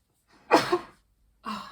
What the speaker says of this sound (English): I'm sorry, I have to sneeze.